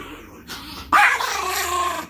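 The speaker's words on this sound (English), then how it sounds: "He is a junkyard dog." A dog named Gizmo growls close up, a low rumbling snarl that swells suddenly after a brief quieter whine and continues steadily to the end.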